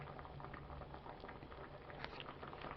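Spicy low-fat oats with vegetables simmer in a pot, giving a faint, steady bubbling and gentle patter, close by and undisturbed by voices.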